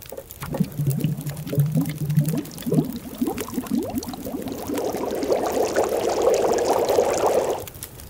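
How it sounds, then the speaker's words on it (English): Water bubbling and simmering as snow is boiled over a campfire in The Long Dark survival game, a steady continuous gurgle that thickens and rises midway before cutting off abruptly near the end. "Now we have to boil snow, because if you just melt it, it's still going to be unsafe."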